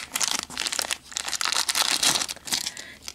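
A plastic bag of vintage costume jewelry crinkles and rustles continuously as it is opened by hand, close up, in quick, uneven bursts with no talking.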